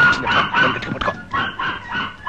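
A dog in a comedy film scene barks in a quick series of sharp, close yaps, with short pauses between the bursts.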